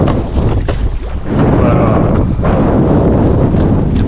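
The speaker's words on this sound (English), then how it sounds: "like that gust right there. It's a 20 plus knot gust." Strong gust of wind over open water, above 20 knots, roaring steadily and loud across the microphone, briefly dipping then returning at full force, out on a paddleboard after a tropical storm.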